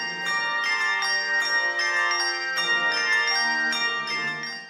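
A handbell ensemble of 61 to 72 bells rings together, bright sustained metallic tones struck in overlapping chords at a steady, lively rhythm, layering into a resonant shimmer.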